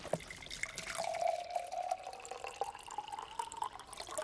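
Silk milk poured from a carton into a glass, a steady liquid trickle with drip-like spatters running for several seconds at moderate level, no talk over it.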